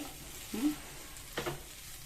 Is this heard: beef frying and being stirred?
yes